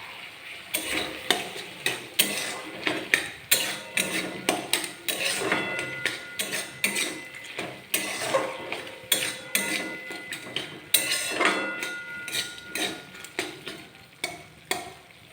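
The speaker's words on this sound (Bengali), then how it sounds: "টমেটো, আলু, মটরশুঁটি যতক্ষণ না সেদ্ধ হয়ে যাচ্ছে না ততক্ষণ আমরা এটিকে কষিয়ে নেব" Tomatoes, potatoes and peas being sautéed in a pan, a spatula scraping and knocking in quick repeated strokes over a soft background sizzle, close and clear with no talk.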